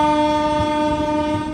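Kondaveedu Express with LHB coaches blasts a loud, steady horn close by, a sustained multi-tone note over the rumble of the moving train, with no voices.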